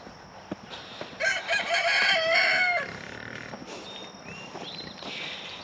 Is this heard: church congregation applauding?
no